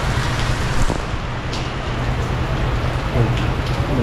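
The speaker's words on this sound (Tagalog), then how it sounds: "Grabe naman tong ulan na to. Ngayon pa umulan." Heavy rain falls steadily and loudly in an unbroken dense hiss, close by and filling the whole stretch without talk.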